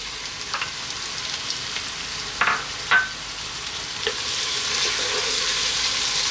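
Fresh tomatoes hit a hot pan for chicken kabsa, bringing a broad hiss that builds into a steady, louder sizzle, with a few scraping knocks from stirring along the way.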